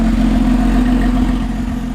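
A stock Lotus Evora S exhaust rumbles and revs steadily with the sport valve open, deep throaty drone with some clatter, close up and continuous.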